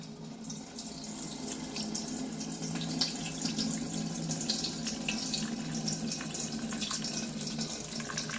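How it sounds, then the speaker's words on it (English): Chicken stock streaming steadily through cheesecloth into a vessel below, a continuous close running-water trickle with soft splashing that holds at an even level throughout, no voices. "Now we're just going to finish straining it through a finer strain. I'm using cheesecloth."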